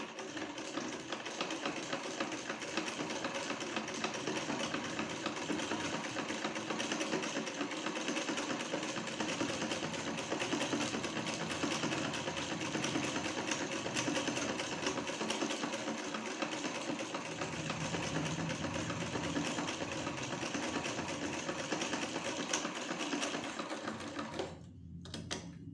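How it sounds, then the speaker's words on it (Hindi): Sewing machine running a straight seam along a kurti collar, a steady continuous motor whir with fine rapid needle ticking that holds evenly for the whole stretch and cuts off briefly near the end. "अब हम यहाँ पे इस तरह से 5 नंबर सिलाई पे एक स्ट्रेट सिलाई लगा लेंगे।"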